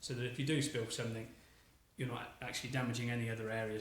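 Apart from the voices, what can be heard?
No distinct noise like a dog, phone or traffic.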